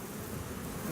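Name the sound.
bees buzzing at opened beehive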